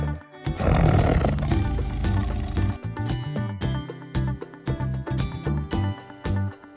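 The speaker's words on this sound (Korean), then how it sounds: "tiger, 호랑이" A tiger roars loudly at the start, a deep rumbling growl that fades after a couple of seconds, then rhythmic children's background music with punchy beats carries on alone.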